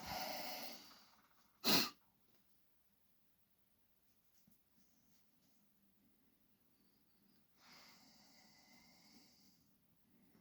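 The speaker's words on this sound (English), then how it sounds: "you become very self-conscious about the amount of sniffing you do, and also kind of generally how heavy your breath is" Close, quiet sniffing and heavy nasal breathing while inking a comic page, one sharp loud sniff near the start and softer breaths later, over near silence.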